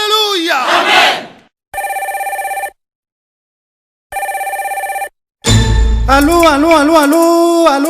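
A telephone rings in two long electronic bursts separated by silence on a live radio call-in show, with crowd shouting and music around it.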